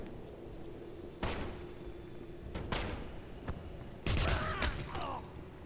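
Several sharp gunshot bangs from above in the video game Wolfenstein (2009) at irregular intervals over a quiet ambient background, the last burst louder with a brief echoing tail.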